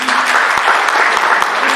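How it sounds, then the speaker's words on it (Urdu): Brief, close burst of audience applause at a Pakistani lecture, with dense, even hand claps and a few sharper individual claps standing out. "ستائشی تالیاں"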